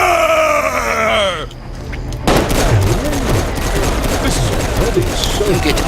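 Rapid gunfire and explosions from the video game Saints Row 4 pour out in loud, dense bursts over game music and voiced characters shouting.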